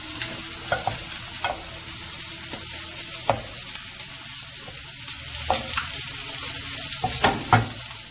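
Cheesy pasta with salmon is stirred in a sizzling pan, with steady frying hiss under scattered scrapes and soft clacks of the utensil against the pan.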